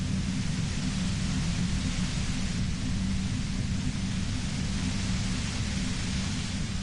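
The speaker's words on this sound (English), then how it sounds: "You hear through the white noise. It's especially bad suddenly." Low rumbling white-noise static from the video game Disco Elysium, a continuous even hiss with a heavy bass roar that holds steady throughout, no voices.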